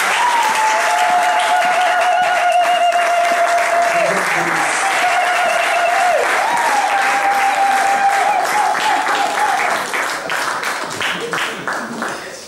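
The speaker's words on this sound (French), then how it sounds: "Lorsqu'ils rentrent, nous acclamons très fort pour la gloire de Dieu." Loud, sustained applause from a church congregation, a dense wash of clapping for about ten seconds over a held musical tone, thinning out toward the end.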